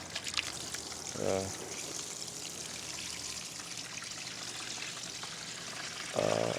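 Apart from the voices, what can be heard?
warm water poured to soak stove hood filter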